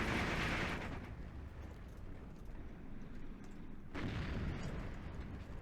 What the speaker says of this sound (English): Mortars continuing to try to do some work.